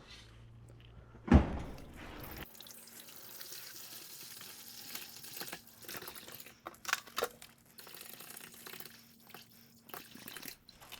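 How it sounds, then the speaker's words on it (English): Water pours into the tank of a Hessaire portable swamp cooler, starting with a sharp splash and then running as a steady, moderately loud flow with small gurgles and drips, heard on its own without talk. "So we're gonna fill this thing up with water."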